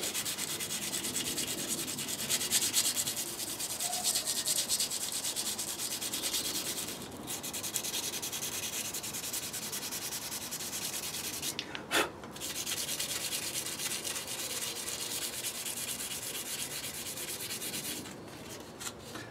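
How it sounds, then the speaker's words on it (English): Sandpaper scrubs rust from a steel knife blade in a steady, continuous rasping rub at close range, with a few brief pauses and sharper scrapes along the way. "you can see here all the rust coming off on the sandpaper there"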